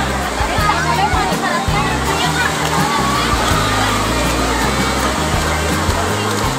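Tourists splash and shout in a rain-fed stream at Kanheri in Borivali National Park, with constant loud rushing and splashing water under a busy crowd of voices and kids' chatter throughout.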